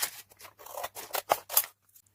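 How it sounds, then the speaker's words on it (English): Scissors snip through paper to cut out a picture, making a quick run of crisp, close cuts at an uneven rhythm that trails off near the end. "Once you've cut your picture out"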